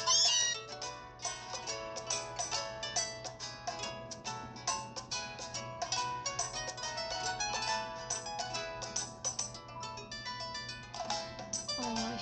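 A cat cry from Meowth in the Pokémon Ultra Sun video game plays amid bright, busy game music with chiming tones, faint within the continuous score and never heard alone.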